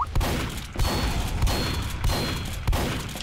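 Rocket explosions and gunfire in Team Fortress 2 during an MGE duel, with repeated loud blasts roughly every second over a constant rumble of game noise.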